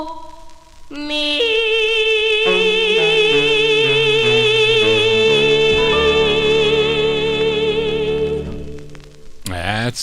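A 1956 78 RPM record of a doo-wop song on the OKeh label, vocal harmonies over backing music playing steadily and loud, ending on a final held chord.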